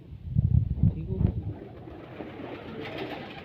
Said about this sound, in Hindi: लाखा कबूतर